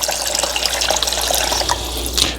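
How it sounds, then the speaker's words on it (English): Filtered water pours for homemade almond milk, a close, steady splashing stream into a container with bubbly gurgles running throughout. "So I will add filter water."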